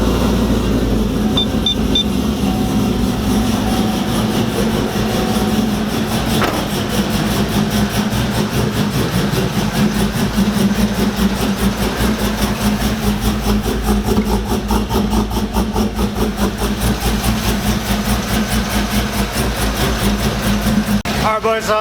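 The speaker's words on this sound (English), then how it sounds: "let's start her up" A cammed 5.3 V8 in a Chevrolet Silverado fitted with new spark plug wires and a MAF sensor rumbles steadily at idle for the whole stretch, a loud, low, continuous engine drone close by with a choppy pulse.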